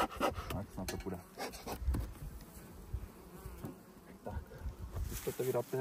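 Honeybees swarm around an open hive during a spring colony inspection, a dense, steady buzz close by with scattered rustling and handling noises throughout.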